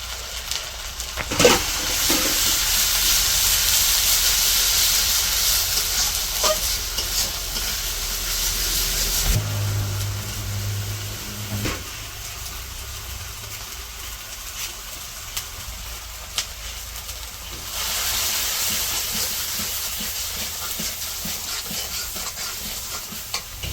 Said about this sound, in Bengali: সব মশলা দিয়ে দিছি অল্প একটু পানি দিয়ে ভালো করে মশলাটা কষে নেব